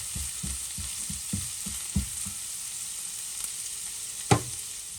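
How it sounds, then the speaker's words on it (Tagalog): Onion fries in a pan for a quick carbonara spaghetti, with a soft, even sizzle and a run of light stirring taps early on, then one louder knock; no voices. "Hintayin ko lang din lumabas yung aroma ng sibuyas."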